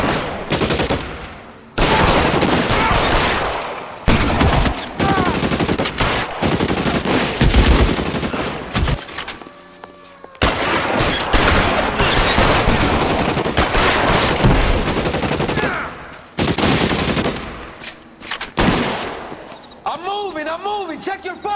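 Heavy gunfire in the crime video game L.A. Noire, with loud sustained bursts and rapid volleys filling most of the stretch, broken by short pauses, while voices shout over the shooting.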